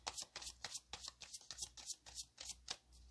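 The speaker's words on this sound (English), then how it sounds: "All right, I'm going to cut the deck." A deck of tarot cards is cut and shuffled by hand, a quick series of soft riffling flutters and slaps, close and quiet.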